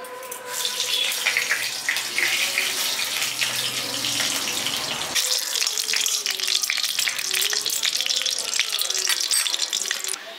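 Sizzling and bubbling of ghee heating in a pan while being stirred for a village-style paneer and green peas pulao, a continuous crackling hiss that changes in texture halfway through.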